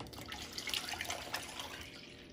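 Water is poured into a container holding a peach gelatin dessert mixture, a soft continuous splashing trickle, near but fairly quiet, with no talk.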